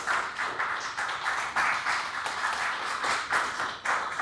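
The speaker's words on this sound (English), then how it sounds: "Clap for yourselves." Audience at a talk show claps steadily, a dense, even patter of many hands with slight pulsing, moderately loud and without voices.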